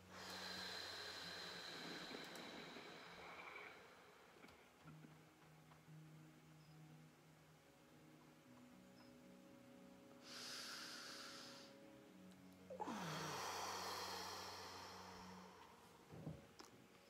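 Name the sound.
slow breathing during guided meditation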